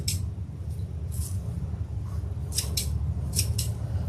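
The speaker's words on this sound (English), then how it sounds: "we're going to trim our raffia just a little bit more" Scissors snip raffia trim in a craft session, a handful of crisp short cuts spaced irregularly over a low steady room hum, close and fairly quiet with no talking.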